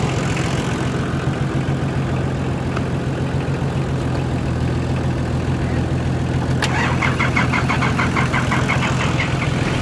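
A Nissan Patrol Y60 engine turns over and runs steadily at close range, a loud continuous low rumble with a brighter burst of revving or cranking partway through.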